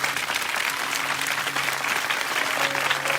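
Sustained, loud clapping from a church congregation at a revival meeting in Sahiwal, an even roar of many hands with a faint steady hum beneath it.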